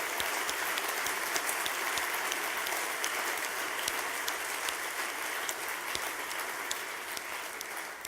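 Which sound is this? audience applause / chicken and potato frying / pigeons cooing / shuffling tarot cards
audience applause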